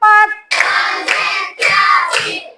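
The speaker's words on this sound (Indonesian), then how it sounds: "Kita tepuk semangat ya." Elementary schoolchildren in a fourth-grade classroom clap together in a rhythmic class cheer, in loud bursts grouped into distinct counted sets, with brief pauses between them.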